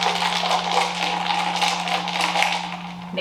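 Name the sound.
stirring iced coffee with a paper straw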